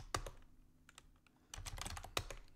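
Quiet clatter of typing on a computer keyboard, irregular bursts of key presses with short pauses between, close and faint in a calm room.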